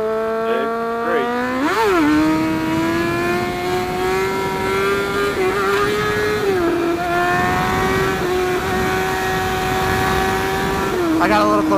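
A car engine races at full throttle, climbing in pitch through a gear, then holding a loud, steady high drone with brief dips at shifts. It stays close and continuous, and a voice is heard faintly under it.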